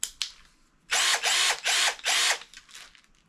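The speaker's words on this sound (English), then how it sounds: "it's also a hammer drill. This must be the hammer part." A Pulituo 20V cordless hammer drill runs in four short bursts, each a loud rattling whir, preceded by a couple of sharp clicks.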